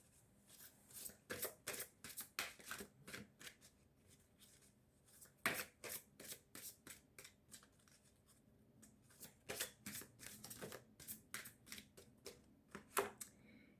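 A deck of tarot cards being shuffled by hand, close and crisp, in irregular bursts of riffling and flicking with short pauses between them and no talk over it.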